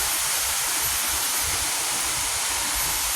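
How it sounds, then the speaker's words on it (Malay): Steady, dense rushing of a multi-tiered jungle waterfall fills the air evenly, a constant broadband roar with no pauses or voices; Kanching Eco Forest Park, Rawang, Malaysia. "So daripada sini kita dah boleh dengar geng desiran air terjun"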